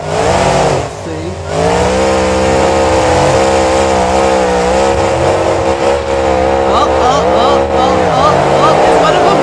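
Monster trucks at the Monster Jam World Finals roar with loud, sustained engine drone and revving throughout, a dense continuous motor sound filling the arena.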